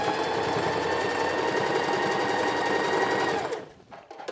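A home sewing machine runs steadily, stitching and backstitching a knit neckband, with a fast even mechanical rattle held loud and close for about three and a half seconds before stopping abruptly.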